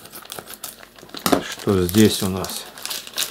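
A small plastic packet from a parcel of manicure supplies is crinkled and rustled open close by, in short bursts of crisp crackling, while a person speaks over it.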